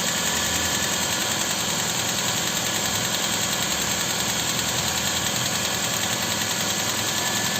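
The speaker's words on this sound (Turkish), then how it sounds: "Şu anda sesinden anladığımız kadarıyla aracımızın rolantisi güzel." A carbureted car engine runs on LPG at a steady, loud idle up close, a constant even rumble with a slight rhythmic knock throughout.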